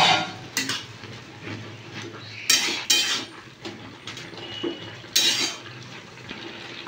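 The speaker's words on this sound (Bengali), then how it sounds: "5 মিনিট হয়ে গেছে, আমি খুলে নেবো ঢাকাটা" A lid is lifted off a cooking pot of boiling taro leaves (kochu shak), giving a few clattering metal clanks and scrapes at close range, with soft kitchen noise between them and no talking.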